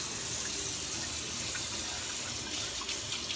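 A young child rinses a kitchen sink with running tap water, a steady close splashing gush that continues throughout without pause.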